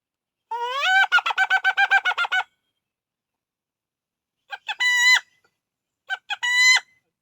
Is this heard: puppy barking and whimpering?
no